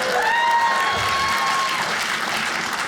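A comedy show audience claps in a dense, steady burst of applause that fills the room and fades slightly toward the end, with a faint whistle early on.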